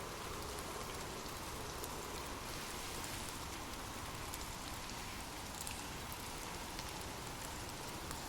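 Steady rain falls without a break, a dense, even hiss of drops that stays loud and unchanging throughout, with no voices.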